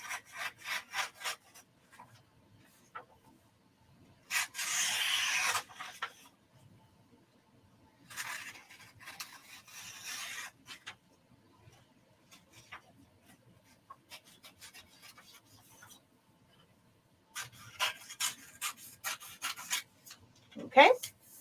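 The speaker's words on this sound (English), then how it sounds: "I always recommend that you trim the edges off, trim the edges off, just in case any ink got on there." Scissors trimming the edges off a sublimation shirt, a few short bursts of rough cutting and scraping separated by quiet pauses, close and fairly faint.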